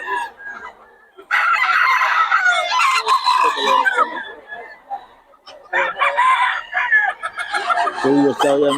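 Roosters crow repeatedly in loud, overlapping calls with clucking chickens close by, with brief pauses between bursts.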